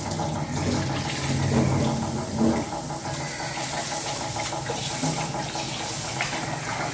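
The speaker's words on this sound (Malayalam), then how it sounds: "അപ്പോൾ ഞാൻ അരിയൊക്കെ ഒന്ന് കഴുകുകയാണ് കേട്ടോ." Rice being washed under running water in a home kitchen, a steady, close rush of flowing water with soft splashing throughout.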